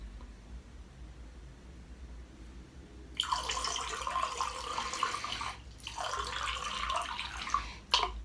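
A steady breath is blown through a straw into a glass of water during circular-breathing practice, making two long bursts of loud, close bubbling separated by a short pause, then a brief final gurgle.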